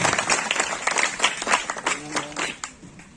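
An audience at a high school prize-giving ceremony in Dhawda, Bhokardan, Jalna, claps in a loose, uneven burst that rises and falls, with a voice speaking over it toward the end.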